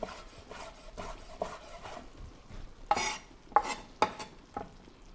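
A utensil stirs smoked salmon strips through a linguine sauce with soft scraping, irregular taps and scrapes against the pan, a few sharper knocks standing out near the end, with no voices.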